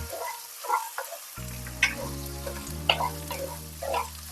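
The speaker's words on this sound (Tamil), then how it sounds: "ஒரு 10 செகண்ட் இது நல்லா வதக்கி விடலாம்." Ginger garlic paste with turmeric and chili powder sautéing in a pan for chicken chintamani, a low steady sizzle with a few light stirring scrapes and taps, close and without talk.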